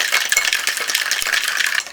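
A metal-and-glass Boston shaker is shaken hard and steadily, giving a dense, rhythmic rattle of ice against metal, close and loud, with no voices.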